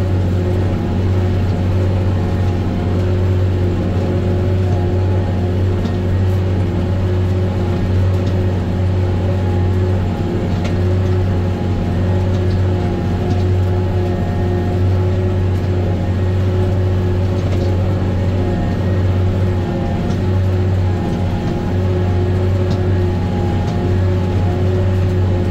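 A tractor, a BH234 HI-TECH, pulls a 56x22 leveling disc harrow through soil, its steady low diesel drone running continuously and fairly loud throughout, with no one speaking.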